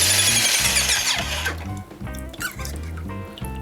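The motor of an Avanti AV-APS1 airless paint sprayer runs with a rough, rhythmic pumping drone, topped at first by a bright high squeal that fades after about a second and a half.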